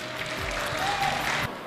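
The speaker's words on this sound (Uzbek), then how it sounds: "hozir mana ajoyib qarsaklar bo'lib o'tdi" Guests at an Uzbek wedding applaud together in a steady, moderately loud burst of clapping that holds for under two seconds, with no voices over it.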